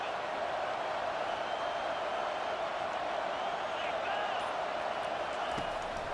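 Broad, steady roar of a stadium crowd in College Football 25, Auburn at Florida State, a dense continuous wash of cheering that sits under a commentator's voice.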